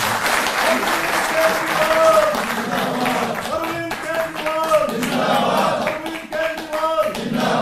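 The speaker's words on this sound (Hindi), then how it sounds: "जोरदार तालियों से आप" A crowd claps and cheers loudly while a voice speaks over it and tonal sounds ring through the noise.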